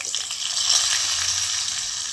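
Potato pieces and drumstick (sajne danta) sticks sizzle steadily in hot oil tempered with spices, a close, even hiss of frying with faint stirring underneath and no voices.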